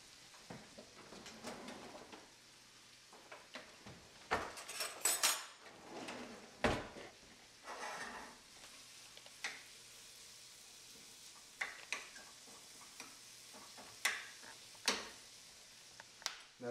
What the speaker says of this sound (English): hearing that sizzle, a little more reassures that it's hot enough